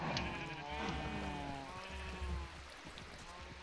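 Sheep bleat in a blocky sandbox video game, several wavering calls overlapping near the start and fading later, fairly quiet, with no one talking.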